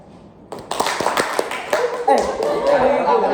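Students in a classroom game clap their hands together, a quick run of sharp, close claps starting after a brief pause, with other students murmuring and talking underneath.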